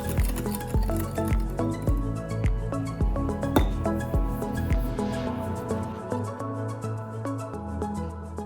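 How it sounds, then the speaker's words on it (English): Yogurt cake batter being stirred in a bowl to work out the lumps, giving steady, rhythmic clinks and wet scraping strokes repeating about twice a second, with no voices. "Stir the mixture until you have all those little lumps out."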